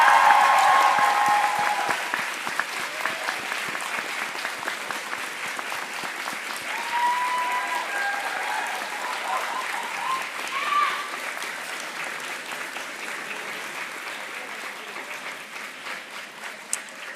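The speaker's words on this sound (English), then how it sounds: "please give all of your supporters a big round of applause" Sustained applause from a convocation audience honoring graduates at a university ceremony, steady clapping that starts strong and slowly tapers while staying dense throughout.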